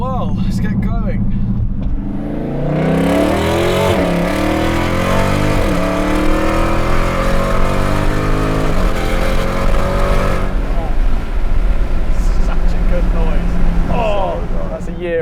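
A car engine revs hard and climbs through gears as it drives off, loud and close with rising, sweeping pitch, then settles into a steadier cruising drone near the end.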